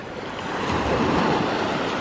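Waves break and wash continuously onto a beach in Mallorca. Wind buffets the microphone, and the surf stays moderately loud with no voices.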